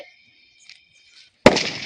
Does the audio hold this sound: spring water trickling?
no